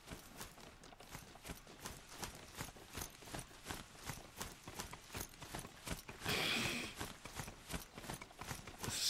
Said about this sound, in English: Honestly, did not expect to be riding horses for a second.